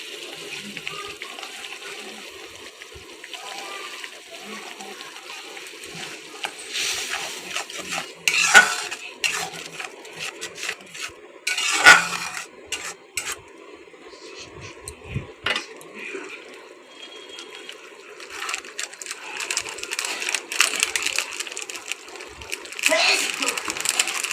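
Spice paste with salt, turmeric and Kashmiri chili powder being stirred and fried in a pan for tangra fish curry: a continuous wet sizzle with scraping spoon strokes and occasional clinks against the pan, up close.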